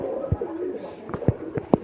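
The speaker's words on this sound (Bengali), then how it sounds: "একবারে সুস্থ সবল কবুতর" Pigeons, a mated pair of healthy birds, coo in low soft bursts, several short calls spaced through the moment, close by over a faint background.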